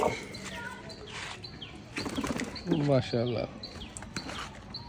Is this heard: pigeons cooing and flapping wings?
yes